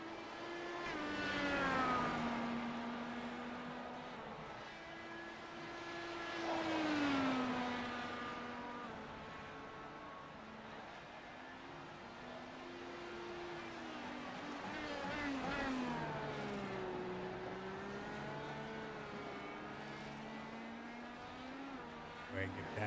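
Race cars on the Indianapolis road course in a racing video game: steady engine tones that climb and drop with shifts and revs, lapping past in smooth waves at moderate volume.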